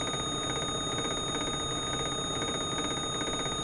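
A stall alarm sounds in a Microsoft Flight Simulator aircraft as it comes in on final approach. It is a steady, loud, continuous electronic tone that runs unbroken for the whole stretch, with no talking over it.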